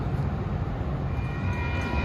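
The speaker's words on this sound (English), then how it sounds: "here comes train 115 bound for Antioch on the old Sioux line" A Metra train rolls past the Canal Street crossing near the Union Station portal in Chicago, a loud, close, steady low rumble of wheels and cars with no talk over it.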